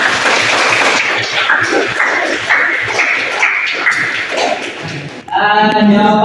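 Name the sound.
class applauding students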